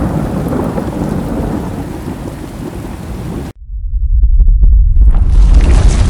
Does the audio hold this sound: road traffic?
no